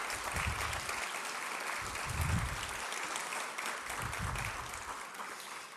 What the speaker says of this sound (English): I'd like to give them a round of applause, actually, for all they do